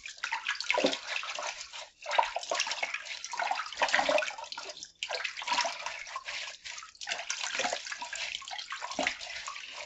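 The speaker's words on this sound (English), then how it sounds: "now I'm going to wash this the same way" Fruits and vegetables being washed and rubbed under running tap water, a close, continuous gushing splash with brief interruptions as the produce is moved, no voices.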